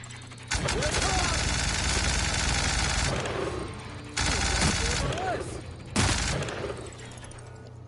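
Automatic gunfire blasting at giant creatures in The Outer Worlds, three long sustained bursts of rapid loud shots separated by short pauses, close and dominant, with faint game sounds between.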